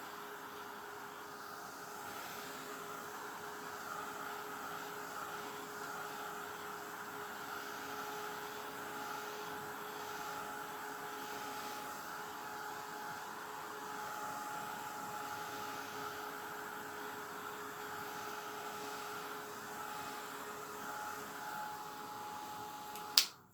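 A heat gun blows steadily on a mixed-media dragon egg, giving a constant, close airy whoosh with a faint whine that holds unchanged for over twenty seconds before a sharp click ends it.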